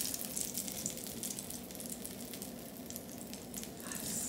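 Flour, milk and egg batter for Yorkshire puddings or popovers poured into very hot oil, giving a steady close crackling sizzle that continues evenly without speech.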